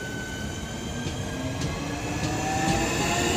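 A Southeastern passenger train from Gravesend to London Charing Cross rolls past at Northfleet, a steady rumbling roar with faint wheel squeal and soft rhythmic clicks from the rails, sustained and moderately loud throughout.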